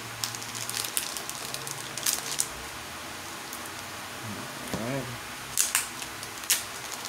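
Plastic team bags holding top-loaded trading cards being opened, with crinkling, crisp snips and rustles in scattered bursts close by, plus a short low murmur of speech in the middle.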